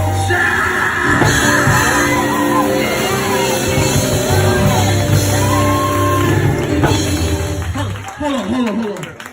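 A church congregation shouts and whoops during a sermon, a loud sustained crowd roar with mixed cries filling the whole stretch and tapering slightly near the end.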